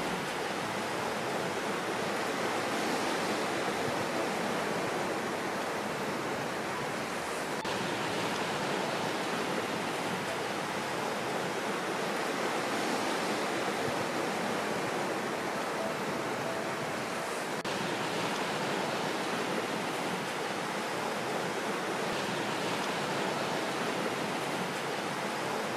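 Sea waves wash continuously over a broad rocky shore of yellowish water in Yuhuan, Taizhou, a soft, even, hissing surf heard from a moderate distance.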